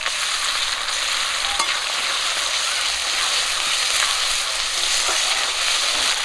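Ginger-garlic and cumin paste fries in hot oil in a pan, making a constant loud sizzle with light crackles and occasional stirring taps close up, without any voices.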